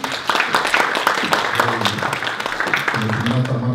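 An audience at a business innovation forum in a hotel applauds as a speaker is welcomed, a dense run of claps mixed with murmuring voices and a talker near the end.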